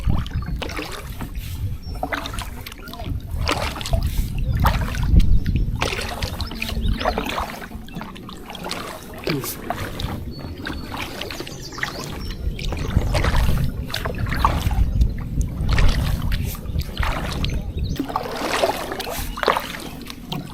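Paddle strokes dip and splash in a slow, regular rhythm as a small boat glides across calm water at MacGregor Point Provincial Park, with soft trickles between strokes.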